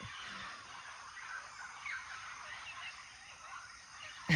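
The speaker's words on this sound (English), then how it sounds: "I wanted you to hear the green parrots this morning." Green parrots call on a quiet morning, their squawks and chirps faint and distant over a soft outdoor hush.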